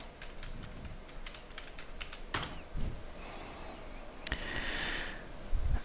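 Close, crisp keystrokes on a computer keyboard, entering a username and password: a quick irregular run of light clicks with a few louder key presses, in a quiet room with no talking.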